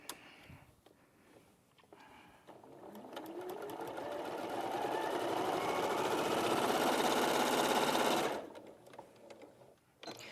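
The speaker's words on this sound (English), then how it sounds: "I'll sew the little border piece first" A sewing machine stitching a quilt border piece speeds up from a slow start into a steady, fast mechanical whir with a ticking needle rhythm, then stops abruptly, heard close with no talking.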